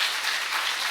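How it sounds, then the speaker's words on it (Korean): A church congregation at a Sunday service applauds, a dense, even wash of many hands clapping without pause, close and fairly loud, with no speech. "박수 좀 받고 가려고 그러는데 박수도 안 쳐주시고"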